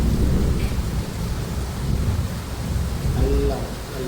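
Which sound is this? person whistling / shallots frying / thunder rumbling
thunder rumbling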